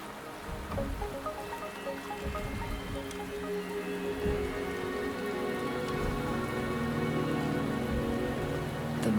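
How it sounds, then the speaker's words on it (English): Steady rain falls in Wuthering Waves, a continuous even hiss of drops on surfaces that holds at moderate level throughout, alone without voices. "The rain is subsiding, and the sky will soon clear."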